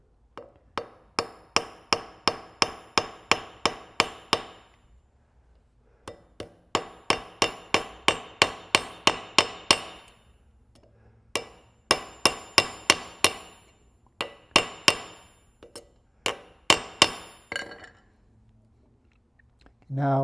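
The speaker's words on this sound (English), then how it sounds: "now I'm going to rivet it over" A rivet is hammered over on a homemade bevel tool with quick bursts of sharp metallic blows. The blows come in rapid runs separated by short pauses, loud and close.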